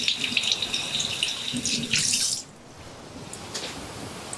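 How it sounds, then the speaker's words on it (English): Tap water running into a sink while hands are washed in a kitchen, a close hissing stream with splashes that stops partway, followed by faint drips. "let me give you a closer look as I wash my hands"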